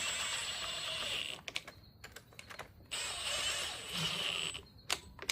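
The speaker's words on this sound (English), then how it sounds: "we're gonna go ahead and snug up these engine side bolts first" On a 2012 Chevrolet Malibu, engine side bolts are snugged with an 18 mm socket and ratchet, giving quick bursts of clicking ratcheting separated by short pauses, fairly close and quiet, with no voice.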